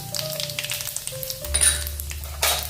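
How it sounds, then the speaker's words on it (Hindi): Chili flakes and cumin seeds hit a spoonful of hot oil, giving a steady close crackling sizzle with light clinks of a spoon, swelling louder midway and flaring briefly near the end. "मैंने 1 चम्मच तेल गरम किया है। इसमें अभी डालेंगे अपना चिली फ्लेक्स, जीरा डाल देंगे"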